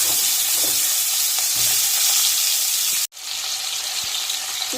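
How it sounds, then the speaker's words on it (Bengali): Potatoes and pointed gourd fry in hot oil with cumin and bay leaf, a steady loud sizzle throughout, briefly cut off once before resuming. "ভালো করে লাল লাল করে ভেজে নেব এগুলো।"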